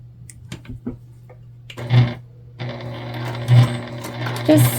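Sewing machine running in short bursts as it stitches a reinforcing line across the Olivia Bag, a steady hum with several louder pulses close by and a few faint handling clicks between.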